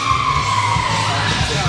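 An ambulance siren wails nearby, its tone sliding downward at a fairly loud level over a low rumble of traffic.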